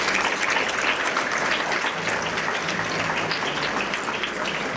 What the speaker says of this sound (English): students, if you would please give a round of applause to your parents